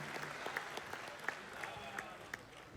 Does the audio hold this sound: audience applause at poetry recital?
yes